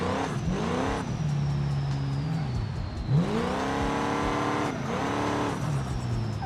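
A race car engine in the driving game BeamNG revs and shifts on a racetrack, pitch climbing and dropping through gear changes, steady and close with a brief thump midway.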